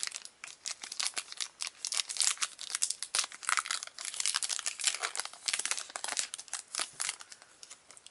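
A Yu-Gi-Oh Star Pack foil card wrapper is torn open with close, bright crinkling and tearing in uneven bursts, with no talking.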